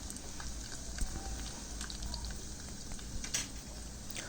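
Dried red chillies sizzling in hot oil in a pan on a Telangana home stove, a soft, steady crackle with a few sharper pops, fairly quiet and with no one talking.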